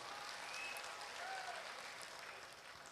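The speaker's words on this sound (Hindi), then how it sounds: "जोरदार तालियां होनी चाहिए।" Audience clapping steadily at a Saurabh Kumar comedy show, a broad, even wash of applause that tapers off slightly toward the end, heard at low volume.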